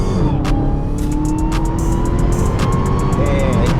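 A Dodge Charger Daytona Hellcat accelerates hard on a highway, its loud engine note climbing through gear changes with rising, sweeping pitch, continuous and close from the driver's seat.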